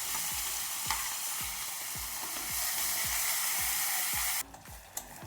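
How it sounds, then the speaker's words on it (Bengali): Onion paste and ginger-garlic paste fry for a Katla fish curry with a continuous close sizzle, while a spoon scrapes the pan in a regular rhythm of short knocks. The sizzle drops suddenly near the end, leaving fainter scraping. "সুন্দর করে ভেজে নিয়েছি, একদম কাঁচা গন্ধ নেই।"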